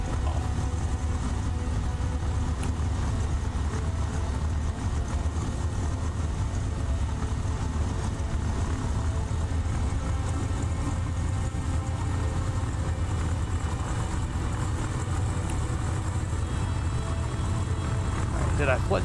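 Navajo Chieftain aircraft engine cranking in the X-Plane flight simulator, a steady low rumbling drone that continues without pause for the whole stretch, loud and close, with no talk over it.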